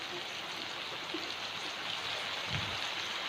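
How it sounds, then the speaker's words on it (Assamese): Rain falling outside, a steady soft hiss of drops that stays faint and even for the whole short stretch, with no talking. "বাহিৰত বৰষুণ আহি আছে।"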